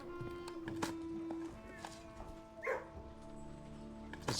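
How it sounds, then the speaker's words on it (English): Dogs bark and whimper in the video game Blue Prince, in a few short quiet bursts over soft tonal game background sounds. "when you dig and the dogs unlock the door, there's like, you hear the dogs"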